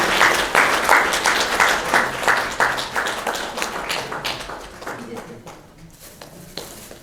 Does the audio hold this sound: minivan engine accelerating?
no